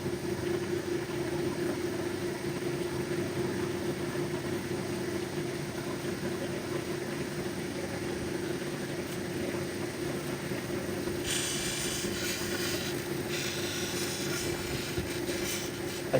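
Black opal pea nobby from Lightning Ridge being ground on a 600 grit wheel, a steady close motor whir with continuous grinding hiss throughout, brightening with added high grit noise in the last few seconds.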